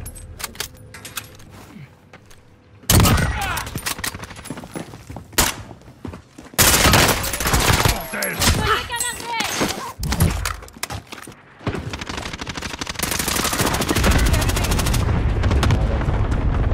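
Heavy Call of Duty: Warzone gunfire arrives in loud, dense stretches of rapid shots broken by sudden drops to quieter ambience, with metallic rattles and clatter mixed into the chaotic, close-range firefight.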